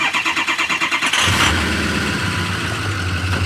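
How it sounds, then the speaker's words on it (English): A diesel truck engine cold-starts after its glow plugs are primed, rhythmic cranking pulses giving way to a loud catch and a steady, rumbling idle, heard close with the exhaust on the far side. "Let's get the glow plugs primed. And listen to this cold start, guys."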